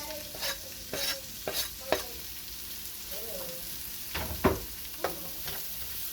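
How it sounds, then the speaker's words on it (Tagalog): Garlic and onion sautéing in a pan for spaghetti carbonara, with soft sizzling under repeated clacks and scrapes of a utensil stirring against the pan. "Ilagay na natin yung bawang. Sabay na rin natin yung sibuyas."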